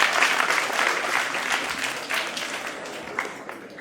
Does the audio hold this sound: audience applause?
yes